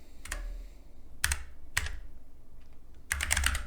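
Computer keyboard typing in short bursts of a few keystrokes, separated by pauses, with a final quicker cluster, close and fairly clear over a low background hum.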